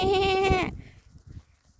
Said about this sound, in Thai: วันนี้มาดูแพะนะคะแม่